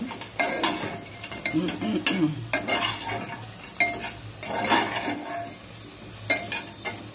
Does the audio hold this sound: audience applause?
no